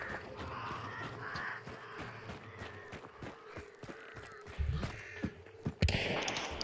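Crows cawing in the video game Hunt: Showdown, a flock of harsh caws and wing flutters at moderate distance, growing louder and busier toward the end.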